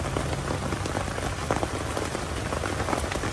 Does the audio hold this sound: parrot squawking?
no